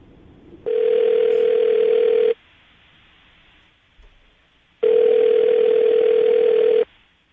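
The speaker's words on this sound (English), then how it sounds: "I'm going to dial the phone number right now, get her on the phone" A telephone dial tone sounds loud and steady in two long bursts separated by a quiet pause while a radio host prepares to dial a number.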